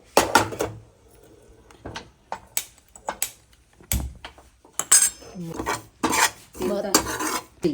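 Seeds dry-roasting in a pan over a low flame for pinnis, with intermittent scraping, clinking and rasping strokes of a spoon against the metal, arriving in irregular bursts with quiet gaps between.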